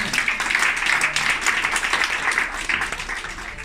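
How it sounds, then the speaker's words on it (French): A church congregation claps together in a dense, sustained wash of applause at fairly close range, holding steady before easing off slightly toward the end, with no talk over it. "Lève-toi, donne un tonnerre d'applaudissements à Jésus"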